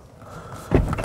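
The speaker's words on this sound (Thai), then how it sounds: "เดี๋ยวเข้าไปฟังเสียงปิดประตูนะครับ" An Xpeng G6 Performance car door shuts once with a solid, muffled thump, followed by a short rattle and settle, heard close by with no talking.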